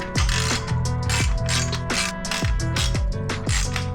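A ratchet wrench with a ball-end extension tightens an exhaust bolt on a Harley-Davidson Sportster S motorcycle, giving quick repeated ratcheting clicks in short bursts with brief pauses, close and clear, with no voices.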